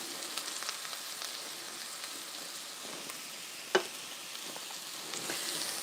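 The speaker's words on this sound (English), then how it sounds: "And we'll stir that in to get a roux." A spoon stirs flour into hot fat in a pan to make a roux, a soft steady sizzle with faint scraping and one sharp clink partway through.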